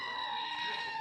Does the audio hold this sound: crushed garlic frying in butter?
no